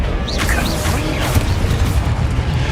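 A booming blast from the Confringo fire spell in the Hogwarts Legacy video game, a dense crackling burst layered with whooshing magic effects and game sounds over constant background noise.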